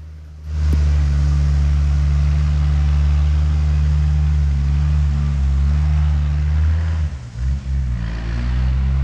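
Compact utility tractor engine running steadily at close range, a strong low droning hum with a brief dip near the end, no talking.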